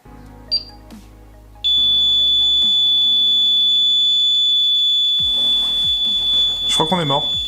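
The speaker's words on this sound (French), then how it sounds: "à la fin, il y a un long bip, ça veut dire qu'on a perdu" Airsoft bomb timer going off with a long, loud, continuous high-pitched beep after a few short electronic chirps, close and steady, with voices reacting near the end.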